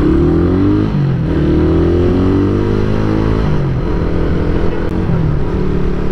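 A Suzuki Raider 150 motorcycle in the Philippines is ridden with loud, close engine drone that rises and falls through gear changes and revving, steady throughout.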